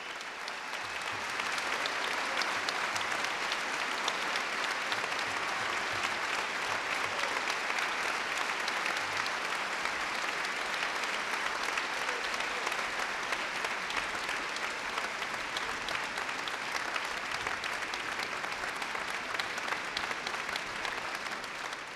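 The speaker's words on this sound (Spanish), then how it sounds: "El público reconoce con su aplauso el excepcional trabajo doblemente interpretativo del maestro Cuarta" Concert hall audience applauding after a Mozart violin concerto by the UNAM Philharmonic Orchestra, long, dense and even clapping that continues steadily throughout.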